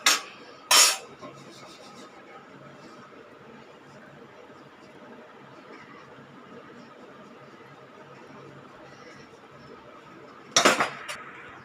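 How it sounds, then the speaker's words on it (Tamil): A spoon stirs a dry mixture of grated coconut, almond and cardamom powder in a bowl for aval (flattened rice) laddu. A few sharp metallic clinks come near the start and end, with quiet soft scraping in between. "இப்போ இதை நல்லா மிக்ஸ் பண்ணிக்கலாங்க இந்த தேங்காய் பதாம் ஏலக்காய் பொடி எல்லாம் கலந்த மிக்சராக நல்லா மிக்ஸ் பண்ணிடலாம்"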